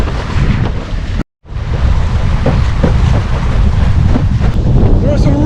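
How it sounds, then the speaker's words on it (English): Strong wind gusts roar and buffet the microphone without a break on a winter windsurfing trip at sea between Hayling and Brighton near buildings, loud and broadband, with one brief dropout partway through. "There are some really big gusts actually coming through these buildings."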